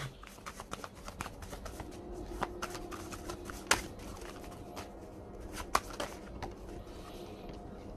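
Pink Floyd oracle cards shuffled by hand close up, with a continuous soft riffling and flicking, a few sharper card snaps standing out, and no talking.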